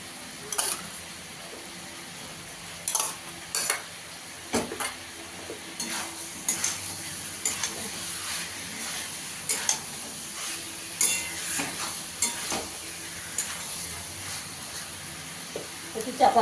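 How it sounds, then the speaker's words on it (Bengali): A spoon stirs fried potato and pointed gourd into a spiced paste in a pan, with repeated scraping clinks against the metal over a soft sizzle, close and intermittent throughout. "এবার আলু পটলটা ভাজাটা দিয়ে দেবো, ভালো করে মিশিয়ে নেবো।"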